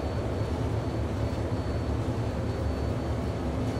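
An F-14 Tomcat jet at military throttle in Microsoft Flight Simulator gives a steady, low, droning engine roar with a faint high whine, unbroken and without speech.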